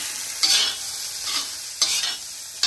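Pork fried rice is stir-fried in a cast iron wok, a steady sizzle broken by several sharp scraping stirs of the spatula at intervals, close and with nobody talking.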